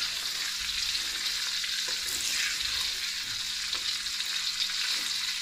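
Spiced masala for dhaba-style mutton chops frying in a pan before the chops go in, a steady, close, dense sizzle with soft stirring scrapes and no voices.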